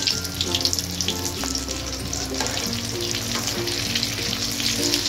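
Food sizzles and crackles steadily in hot cooking oil, a close, continuous frying hiss with clattering tones over it, heard alone without talk.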